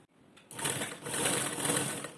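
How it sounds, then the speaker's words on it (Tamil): A sewing machine stitches a lined jacket, starting after a brief pause and then running in a fast, continuous mechanical whir and clatter up close, with no speech. "நம்ம இப்படி தைச்சிட்டு வந்துடலாம்."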